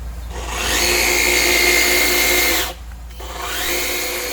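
A Kobalt 80-volt cordless electric hedge trimmer with a 26-inch blade buzzes loudly as it cuts dead azalea limbs, running steadily, cutting out briefly, then spinning up again.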